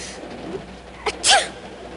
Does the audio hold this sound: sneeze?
yes